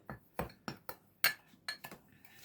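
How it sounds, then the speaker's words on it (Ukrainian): Sharp, evenly spaced clinks of a utensil striking a bowl while stirring dry ingredients with cocoa, several quick taps in a row, close and fairly quiet. "сухі інгредієнти ми перемішуємо"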